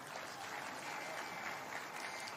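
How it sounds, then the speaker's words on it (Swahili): Members of parliament applaud in a chamber, a dense, even burst of many hands clapping together, heard fairly faint and steady for a couple of seconds without a break. "Pigeni hawa makofi jameni."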